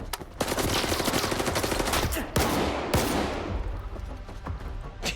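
Gunfire from the video game S.T.A.L.K.E.R. 2: Heart of Chornobyl, a loud, dense burst of rapid automatic shots followed by several single sharp cracks as the shooting tapers off.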